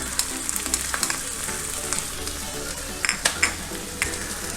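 Potatoes and onions fry in oil, with chili powder added, in a Trivandrum-style vada kootu curry; a steady close sizzle runs throughout, with occasional clinks of a spoon against the pan.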